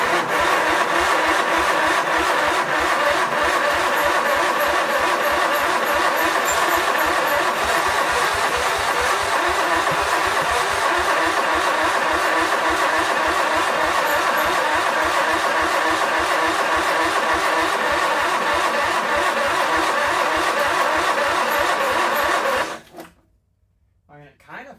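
An old Sears garden tractor engine runs loud and steady close by, revving hard with a rough, throbbing beat, then cuts out abruptly near the end. A voice talks over it.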